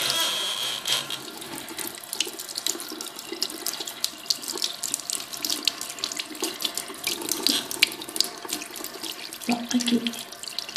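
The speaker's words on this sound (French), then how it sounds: "On va prendre de l'eau, ben pas trop froide," Lukewarm tap water runs steadily into a sink, a continuous close splashing flow for the whole stretch with small fluctuations and a brief lower gurgle near the end.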